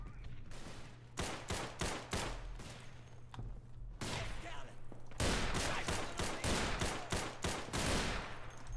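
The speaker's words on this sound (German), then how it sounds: "Ich habe dreimal geschossen." A semi-automatic shotgun fires in a World War I video game, a rapid string of loud, sharp blasts in several bursts, with brief pauses between volleys.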